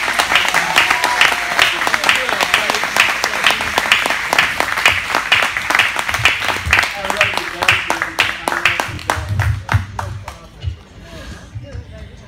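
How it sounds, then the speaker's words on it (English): Warm applause for a performer at a Houston live music event, dense clapping from an audience that stays loud for most of the stretch, then thins and fades toward the end with voices mixed in. "Y'all give a warm round of applause"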